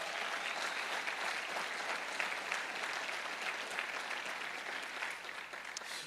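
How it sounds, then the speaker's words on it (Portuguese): A church congregation applauds during a couples' conference service, with continuous, dense clapping that sounds somewhat distant and holds steady for several seconds before easing slightly at the end. "dê um aplauso bem forte ao Senhor"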